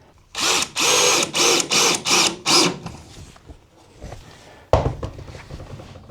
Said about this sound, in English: Put a screw in the opposite end, and then I can put some more in to ensure it's not going anywhere.